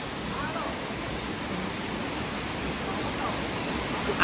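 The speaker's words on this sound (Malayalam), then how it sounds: "ആ വെള്ളച്ചാട്ടം" Keralamkundu waterfall in Kerala, heard as a steady, unbroken broadband roar of falling water that fills the whole stretch at an even loudness.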